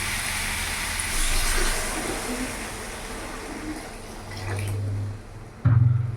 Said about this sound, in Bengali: এবার এরই মধ্যে আমি জল দিয়ে দেবো